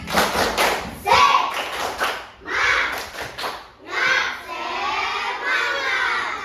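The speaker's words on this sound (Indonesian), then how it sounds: "Coba kita tepuk semangat dulu. Tepuk semangat." A classroom of young children performing the rhythmic 'tepuk semangat' spirit clap chant, shouting in unison in bursts with clapping and thumps mixed in, loud and close.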